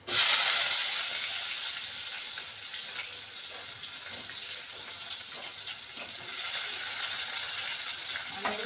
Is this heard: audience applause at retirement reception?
no